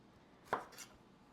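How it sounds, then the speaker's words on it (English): A knife cuts through yellow squash on a board, giving one clear sharp chop followed by a softer second cut, close and quiet against a faint background. "now I'm gonna cut them into the longer strips and then rotate and cut in those smaller bite-sized pieces"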